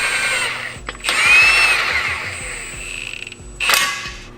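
Power tool driving down wheel bolts on a Mustang GT, several short bursts of whirring drill-like tool action close by, with the loudest bursts near the start and end and no talking.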